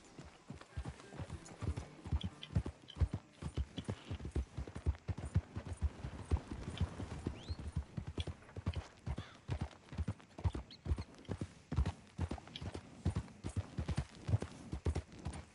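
Horse hooves clip-clop in Red Dead Redemption 2, a brisk, steady run of hoofbeats that carries on for the whole stretch, close and clear, with a voice briefly speaking over it.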